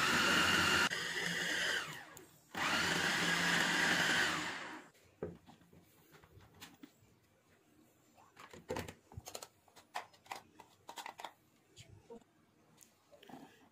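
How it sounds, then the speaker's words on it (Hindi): An electric kitchen blender chops 100 grams of green chillies in two loud bursts of whirring, a short one then a longer one, followed by quieter clatter and faint handling sounds. "इसको चॉप कर लेंगे या ब्लेंडर में ब्लेंड कर लें।"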